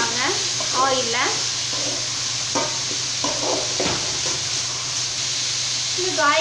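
Cut pumpkin sautéing in hot oil in a pan, a soft steady sizzle running through the whole stretch under someone speaking, with a few light stirring scrapes.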